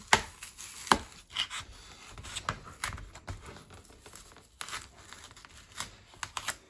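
Cardboard for a model railway insert is being cut by hand in close, uneven strokes, producing dry scraping and crisp crunching snaps with brief pauses between cuts.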